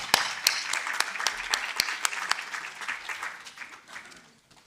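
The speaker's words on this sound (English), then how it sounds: "Round of applause." Audience applause at a higher-education research gathering on gender-based violence, fairly faint and scattered with distinct individual claps, tapering off toward the end.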